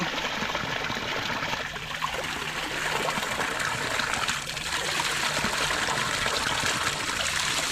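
Spring water runs continuously with a rushing, trickling wash, close and fairly loud, with no pauses.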